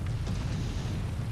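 Artillery rumbling in War Thunder, a continuous low booming roar with faint distant thuds, steady and without talk.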